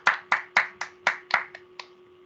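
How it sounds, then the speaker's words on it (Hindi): A few people clap at a women's gathering, about eight separate claps in an uneven rhythm that fades out, close and moderately loud, with no voices. "एक बार सब ताली बजाएंगे"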